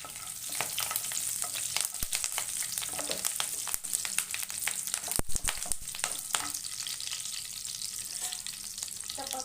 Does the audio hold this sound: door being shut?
no